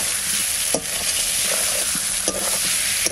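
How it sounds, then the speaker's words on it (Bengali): A spatula stirs onions and potatoes frying in a pan, a loud continuous sizzle broken by several sharp scraping knocks against the metal, with no voices. "এবার ঢাকনাটা তুলে নাড়াচাড়া দেবো।"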